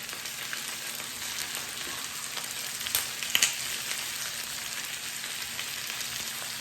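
Fresh chili peppers fry in a pan with a constant, close sizzle. A couple of sharper crackles and pops burst out around the middle.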